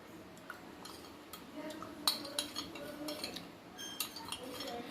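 A spoon stirs custard powder into cold milk for a fruit salad, giving light repeated clinks and scrapes against the bowl at a quiet, close, steady pace.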